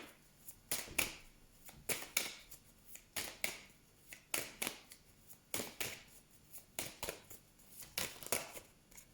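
Tarot or oracle cards are shuffled and drawn for a reading: a run of quick, crisp riffles and slaps in uneven bursts, close and fairly quiet, with no talking.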